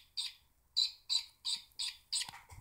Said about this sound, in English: now the whole thing will chirp when the Arduino tells it to.